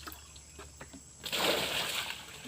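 Water splashing as a farm well is bailed out, a few faint drips and knocks followed by a louder burst of splashing and sloshing water, close by and quiet overall.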